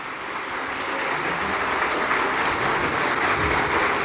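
A church congregation breaks into sustained, dense applause, a loud, even wash of many hands clapping together without pause.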